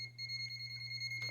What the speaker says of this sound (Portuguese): aproximando de uma fonte de energia, ele vai dar o bip